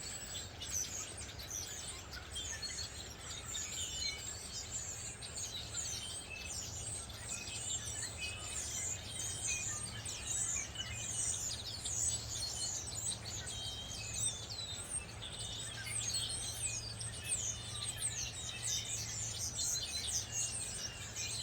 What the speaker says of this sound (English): But the birds are just going nuts today in this big tree of Douglas fir.